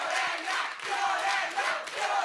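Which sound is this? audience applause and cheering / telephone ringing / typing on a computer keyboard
audience applause and cheering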